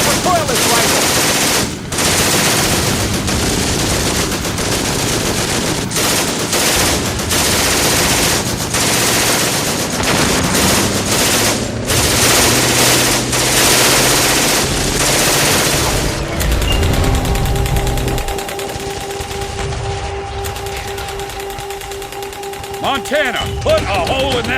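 Heavy battle gunfire keeps up almost without pause, with machine-gun bursts and rifle shots mixed with explosions, loud and close. Shouting voices cut through at times, and the fire later thins into a steadier background din.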